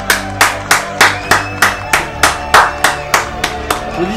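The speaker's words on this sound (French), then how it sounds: "Applaudissez." Loud, evenly spaced claps repeat about every third of a second, a rhythmic unison clapping from an audience at a French political gathering, close and alone with no talk.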